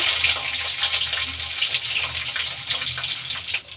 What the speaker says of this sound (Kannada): ಎಣ್ಣೆ ಕಾಯ್ದಿದೆ ಈಗ ಸಾಸಿವೆ ಹಾಕ್ಕೊಳ್ಳೋಣ ಕಡಲೆಬೇಳೆ ಹಾಗೂ ಬೇಳೆ ಎಣ್ಣೆ ಚೆನ್ನಾಗಿ ಫ್ರೈ ಆಗಲಿ